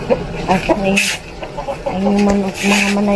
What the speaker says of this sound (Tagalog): Ayan yung manok mga manay.